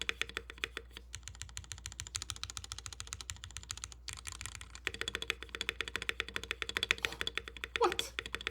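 Rapid, crisp keystrokes on a Pearl 40% mechanical keyboard clatter close and fairly quiet, with a few heavier spacebar thocks mixed into the steady rhythm.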